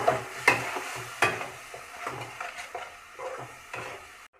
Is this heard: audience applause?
no